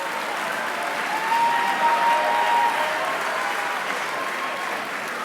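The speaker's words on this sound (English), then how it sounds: "Could we give them all a round of applause?" A school assembly audience gives a sustained round of applause for long-serving students, steady, dense clapping from a large room that swells slightly midway and carries on evenly to the end.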